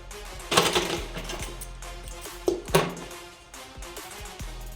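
Sewing machine stitching a belt onto blouse fabric, short bursts of rapid mechanical clatter separated by pauses and soft thunks, close and fairly quiet with no talking.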